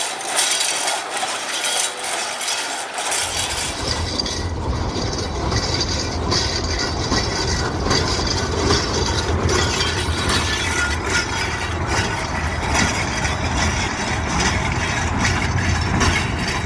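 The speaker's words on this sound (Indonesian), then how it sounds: "dengan melintasnya lokomotif nomor 17" PG Jatiroto sugar mill locomotive number 17 rolls past close by, a loud, steady rumble of engine and rail noise that fills the whole stretch without pause, with no voices.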